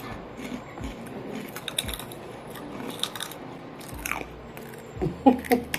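Someone bites and chews a piece of pork fat, with scattered close crunching and soft chewing sounds and a louder burst of crunching near the end, no talk.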